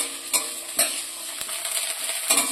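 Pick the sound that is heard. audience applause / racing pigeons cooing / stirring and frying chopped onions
stirring and frying chopped onions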